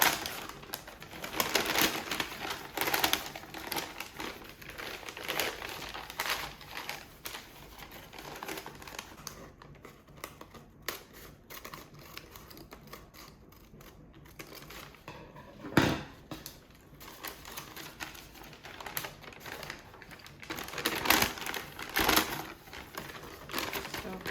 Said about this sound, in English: let me just go ahead and cut out the shape, the deep shape